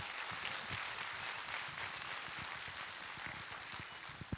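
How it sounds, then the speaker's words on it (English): Audience applause fills a preschool annual day celebration, a dense, steady wash of many hands clapping with individual claps popping through, sustained throughout without pause. "I request all of you to give a thunderous applause for Buzz 11."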